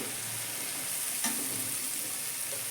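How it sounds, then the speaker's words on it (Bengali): Masala spices fry in oil for a spicy Bengali bhangan fish curry, giving a steady, close, hissing sizzle throughout with one brief stirring scrape and no voices. "এবার মশলা দিয়ে একটু কষবো দেখুন মশলাগুলো কষা হয়ে গেছে তেল বার হয়ে আসছে বাইরে"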